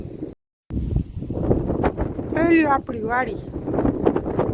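Wind gusting across an open village farm after heavy rain, buffeting the microphone with a steady, rough rumble. Someone talks over it throughout, and the sound cuts out briefly near the start.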